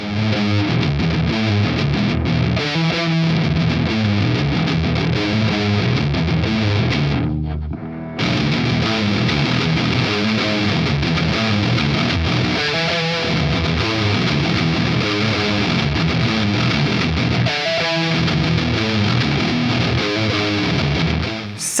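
Heavily distorted Ibanez RGMS8 eight-string electric guitar plays chugging riffs with effects, loud and continuous, dropping out briefly midway before resuming.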